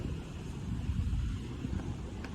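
Wind blowing at the entrance of an NHS hospital in Derby, a steady low rumbling buffet of gusts against the microphone, fairly loud and continuous with no talk.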